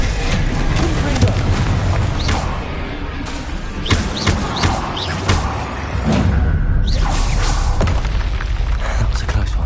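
Spell explosions from Confringo and Incendio burst in Hogwarts Legacy, a dense run of booms and pops one after another over continuous game music and effects, loud and close throughout.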